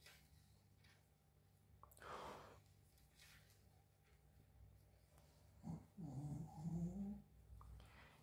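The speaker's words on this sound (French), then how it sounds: "Il y a le chien qui ronfle." A dog snores nearby in a quiet room, with a couple of snorting, rumbling breaths rising toward the end over a low steady hum.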